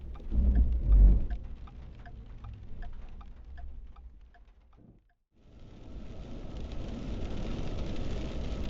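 Steady rain hisses in a broad wash over an Interstate 11 road construction area near Kingman, Arizona, after a brief pause, with a heavier rumble at the start; no voices.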